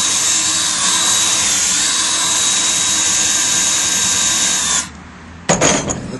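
Power drill boring an angled tap hole into a maple tree, a loud steady whine that holds for nearly five seconds before cutting off, followed by a brief rattle of the bit.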